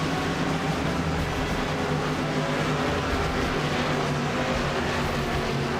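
Many stock cars roar together at the new Atlanta track in an iRacing NASCAR Cup Series race, a dense, steady, loud drone of engines with no break.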